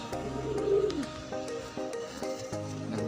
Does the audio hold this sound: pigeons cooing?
yes